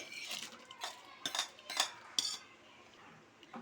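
Soaked sago and semiya being stirred in a pot, with a spoon scraping and clinking against the metal in a few sharp strokes, quiet and close.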